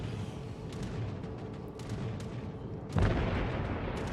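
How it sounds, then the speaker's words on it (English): Anti-aircraft guns on a German cruiser in World of Warships fire in a steady mid-distance rumble of overlapping pops, with one heavier boom near the end. "Let's focus our anti-aircraft gun crews on that squadron of torque bombers."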